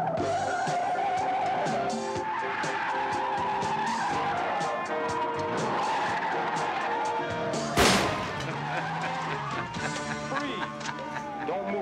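A Ferrari tears along in a reckless police chase, tires squealing and skidding loudly throughout, with a sharp crash-like burst near the end, engine roar underneath and shouting voices mixed in.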